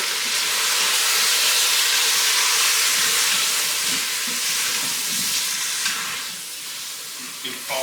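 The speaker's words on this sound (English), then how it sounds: "I had to do the beef in batches to try and sear off and not overcrowd" Beef seasoned with garlic powder, onion powder, oregano and cumin sears in an Instant Pot, giving a loud, steady close sizzle and hiss that eases slightly toward the end, with faint stirring scrapes.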